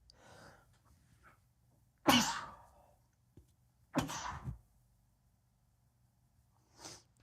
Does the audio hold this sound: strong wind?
no